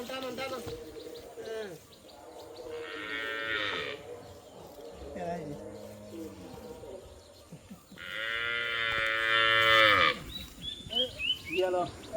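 Cattle moo at close range in long, drawn-out calls, two loud bellows separated by a pause, with people talking around them and other farm animals faintly in the background.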